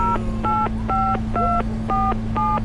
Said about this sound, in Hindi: और ये नंबर मिला लिया गाइज, और पुलिस आती होगी गाइज